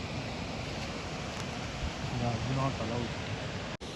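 Water pouring and flowing at a waterfall about 90 km from Bangalore, a steady broadband rush with people talking over it nearby.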